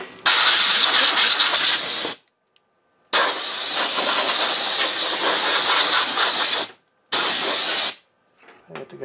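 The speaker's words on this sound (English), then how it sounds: "I should probably blow this out with my air compressor" An air compressor blows dust out of a computer in loud, sharp bursts of hissing air, three blasts separated by short silences.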